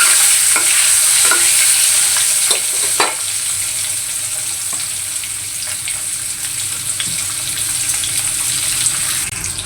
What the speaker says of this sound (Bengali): এদিকে ডিমগুলো ভাজতে দিচ্ছি